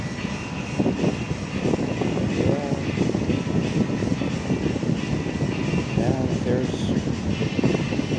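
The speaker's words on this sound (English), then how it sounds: "Sorry about the fan." A steady broadband whir of an electric fan runs throughout, with someone talking over it.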